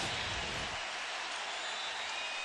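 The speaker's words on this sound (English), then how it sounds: "Crowd on its feet here." A baseball stadium crowd roars and cheers as fans rise to their feet during a pitch count, a broad, steady wash of distant noise that stays even for the few seconds.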